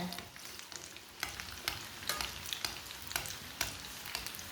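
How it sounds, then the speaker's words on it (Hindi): Kebabs fry in a little oil in a pan at medium heat: a steady close sizzle is punctuated by regular sharp taps and spits about every half second. "अब ऐसे ही थोड़ा थोड़ा ऑयल लेंगे, ऊपर डालेंगे।"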